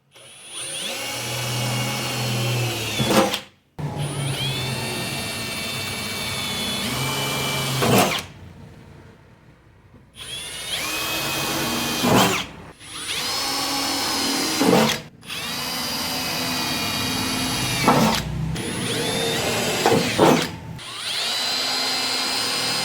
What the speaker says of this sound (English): So that's all our holes pre-drilled.